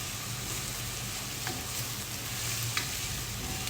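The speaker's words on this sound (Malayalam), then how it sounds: "നമ്മുടെ ഉള്ളിയും വെളുത്തുള്ളിയൊക്കെ നല്ല പോലെ വഴങ്ങി കിട്ടട്ടെ" Onion and garlic sauté in a pan for a coconut crab roast, producing a steady close sizzle with light stirring scrapes throughout.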